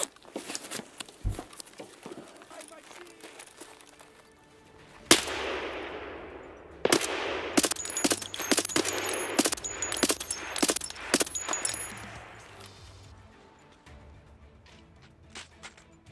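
Gunfire in the shooter game Escape from Tarkov: bursts of sharp, rapid shots with echoing tails, a loud cluster mid-clip followed by scattered single shots.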